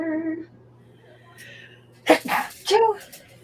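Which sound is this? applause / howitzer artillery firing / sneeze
sneeze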